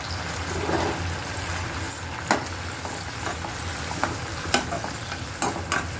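Soybean chilli gravy with tomato sauce and Schezwan chutney sizzles steadily in a pan, with a spoon scraping and stirring in occasional sharp clicks, close up and with no talking.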